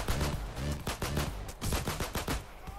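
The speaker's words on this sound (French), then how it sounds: "C'est quoi qui me tire dessus?" Gunfire shooting at the player in the video game Payday 2, a quick run of sharp, close shots in an uneven rhythm over about three seconds.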